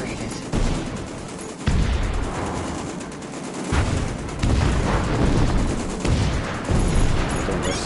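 Sustained bursts of upgraded guns in 1976 Back To Midway on PS4 VR, rattling fire mixed with booms and explosions, loud and almost unbroken, with a voice talking over it.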